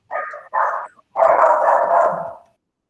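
A dog barks three times, two short barks followed by a longer drawn-out one, fairly close and clear, in a classroom setting during a music lesson, with no talking over it.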